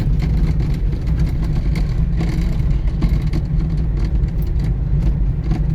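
A 1974 Honda Civic drives through a bumpy country area, its engine droning steadily and loud up close, with low road rumble and small knocks from the uneven surface running through the whole stretch.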